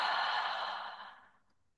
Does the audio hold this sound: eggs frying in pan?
no